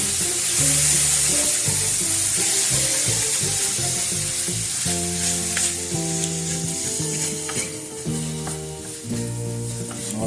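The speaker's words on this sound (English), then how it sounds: "I'm going to add in some vinegar now just to deglaze the pan." Vinegar splashed into a hot pan of cauliflower sizzles and hisses loudly as it deglazes, with scraping and stirring as it goes, over light tonal music in the background.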